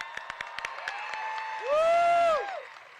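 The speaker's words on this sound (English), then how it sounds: "Please give them a round of applause." A crowd at an outdoor gun reform rally claps in scattered sharp bursts, and a rising, falling whoop or cheer soars above the clapping midway through. The sound is moderately distant.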